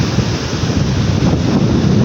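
Sea waves washing in at a coastal fishing spot, a loud continuous rushing roar of surf mixed with heavy wind buffeting the microphone.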